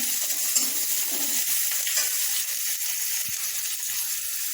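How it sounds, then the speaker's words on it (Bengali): Tempered spices, onion and green chilies frying in oil as the base for a fish curry, a steady bright sizzle with faint stirring scrapes throughout, close and continuous with no talking. "মাছের ঝোলটা বসিয়ে দেওয়ার জন্য দেখো ফোড়ন দিয়ে পেঁয়াজ লঙ্কা দিয়ে দিয়েছি"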